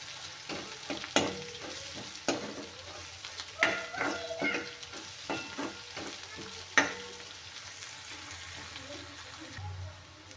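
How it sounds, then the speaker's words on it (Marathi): Crushed garlic cloves roasting in hot oil, a soft steady sizzle punctuated by sharp scraping stirs of a spoon in the pan, fairly quiet and close, with no talking. "पाकळ्या मी छान ठेचून घेतल्या आहेत हे पण तेलामध्ये छान भाजून घेऊया"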